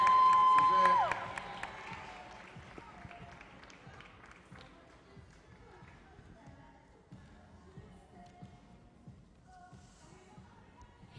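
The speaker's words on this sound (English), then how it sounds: "Let's give them a round of applause as they come out." A pageant crowning audience applauds and cheers, the clapping and crowd noise loudest at the start and then thinning into scattered, fading claps and murmurs.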